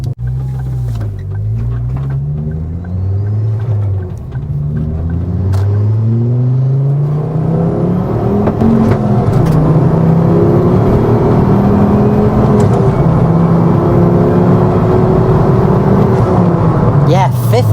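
A Mk2 Ford Focus ST225 with its five-cylinder turbo engine drives under load, a loud, close droning exhaust rising and falling through gear changes with turbo whir, while someone talks over it.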